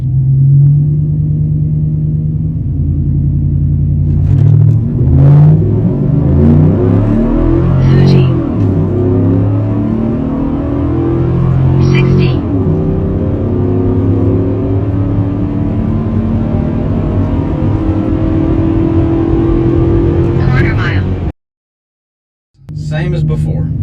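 A Chevy 5.3 V8 car on a quarter-mile run with a factory modified transmission tune, engine droning and rising through gears, loud and close throughout, then briefly cutting out near the end.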